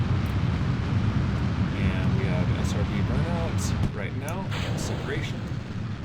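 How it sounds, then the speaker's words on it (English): Fireworks go off during a rocket flight in the video game Kerbal Space Program with the engine sound cut out, giving a continuous rumbling, crackling roar with faint whistling sweeps as someone talks. "Sound cuts out from the engine so that we hear only the fireworks"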